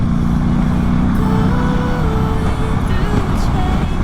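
Steady road traffic on a quiet winter day in the Marche, Italy: a continuous loud low rumble of cars passing close by, with a faint tonal whine running through it and no break in the noise.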